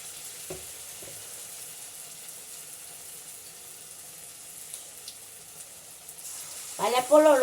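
Small portions of batter for fried snacks such as onion fritters are dropped into hot oil in a home kitchen, giving a soft, steady crackling sizzle nearby. A voice briefly speaks at the end.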